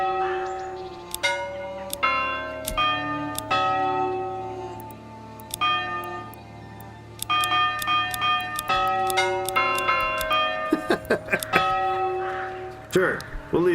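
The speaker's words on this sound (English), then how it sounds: "Church bell sound." Church bells ring out in a medieval village setting in Manor Lords, several clear, resonant strikes with lingering tones, layered over a steady background hum and other game sounds.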